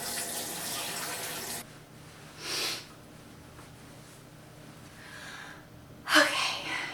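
Water runs from a tap in a steady hiss during face washing at a sink, then cuts off, followed by quieter splashes and a sharp burst of water near the end.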